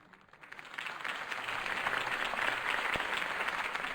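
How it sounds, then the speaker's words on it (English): Crowd applause in Batman: The Telltale Series swells up from quiet and holds as dense, steady clapping from many hands, moderately loud and slightly distant. "could have heard that applause"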